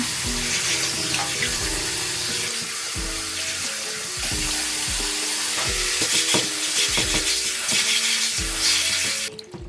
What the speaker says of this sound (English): Wash the bean sprouts in cold water.